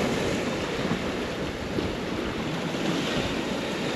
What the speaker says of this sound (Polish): Patrzcie tutaj, jak się woda kotłuje.